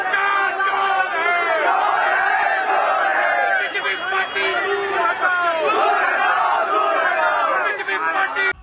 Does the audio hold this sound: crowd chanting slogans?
yes